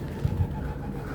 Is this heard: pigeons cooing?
yes